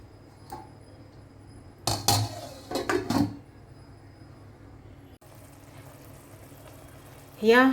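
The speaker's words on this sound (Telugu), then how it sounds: "తిప్పేసి లిడ్తో క్లోజ్ చేసుకోండి." A pot of mushroom biryani is stirred with a metal utensil, giving a cluster of loud scraping clanks, followed later by a lid being set down on the pot with a short ringing clatter, against steady kitchen background hum.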